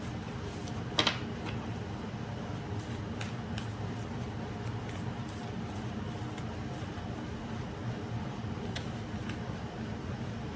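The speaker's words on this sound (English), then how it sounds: "My bad if you can hear the air conditioner." A room air conditioner in hot Southern California weather runs with a steady, even broadband whoosh that stays constant throughout, with one small click near the start.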